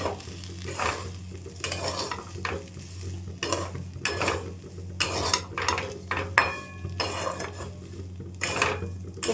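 A utensil stirs spicy semolina with chillies in a hot pan, with repeated scraping and clinking against the metal over a steady low sizzle. The strokes come in an irregular rhythm, close and clear, with no talking.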